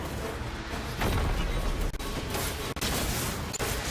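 Weapon fire in the Destiny 2 video game, a dense, loud barrage of booming shots and blasts running continuously with brief gaps.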